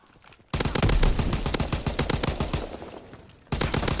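Rifle fire in Call of Duty WWII, a slow-firing gun in multiplayer. Loud, close shots come in a steady rhythm of sharp cracks, break off briefly, then resume.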